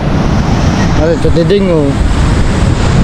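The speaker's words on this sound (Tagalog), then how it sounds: "Sana hindi mabot ng alon." Ocean surf and wind roar steadily and loudly on an open shore, a broad continuous wash of waves, while someone speaks briefly over it.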